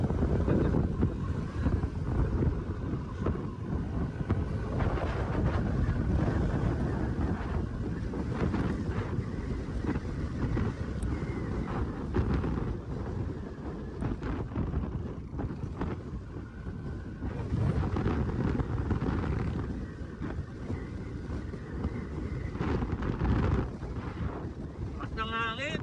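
Strong wind buffets the microphone continuously while a Yamaha NMAX V2.1 scooter is ridden on the road, a loud low roar that swells and dips, with a voice speaking faintly underneath.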